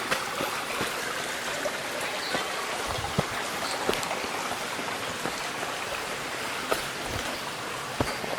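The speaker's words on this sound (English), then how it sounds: "gently joins Oak Creek" Creek water flows through Oak Creek Canyon near Sedona, Arizona, in autumn, a steady close rushing babble with small splashes and drips and no talking.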